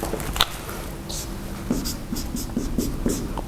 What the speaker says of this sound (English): let me write it one more time then.